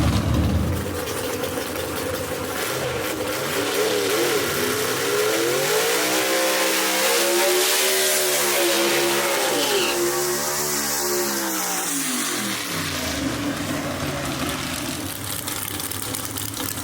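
Gasser drag race cars of the B/Gas class roar down the strip at Kil-Kare Dragway, a loud engine note climbing and sweeping in a long pass-by arc before fading away.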